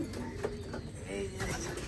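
Young pigeons in a pigeon loft coo softly and repeatedly nearby, low throaty calls over a faint background hum.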